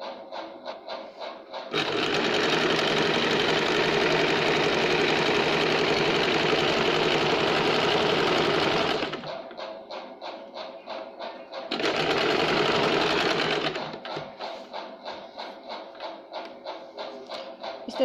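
Sewing machine stitching the lining and cross strip of a katori blouse: two long runs of loud, steady, fast mechanical whirring, separated by a pause, with softer rhythmic ticking of the idling mechanism before, between and after.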